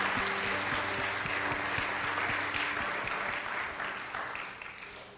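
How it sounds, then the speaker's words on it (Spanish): A church congregation applauds loudly at a worship service, steady dense clapping with a low musical drone underneath, gradually fading toward the end. "Dale un aplauso bien fuerte a Jesús, porque queremos ser como Él."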